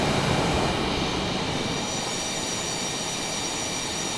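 A Boeing F/A-18E Super Hornet jet engine spools up in Microsoft Flight Simulator, a steady broadband roar with a high whine that holds loud and continuous throughout, alone without talk.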